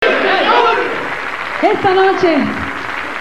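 Applause and crowd chatter for a youth mariachi band at a 1995 live television show, fading from a loud burst as a voice speaks over it.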